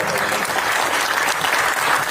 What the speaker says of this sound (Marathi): सरांसाठी एकदम जोरदार टाळ्या.